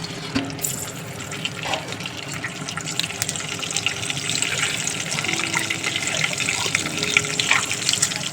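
Water pours steadily into a pan of frying mustard oil, black cumin and chilli for a Bengali hilsa fish curry gravy, a continuous close splashing gush with a brief sizzle underneath.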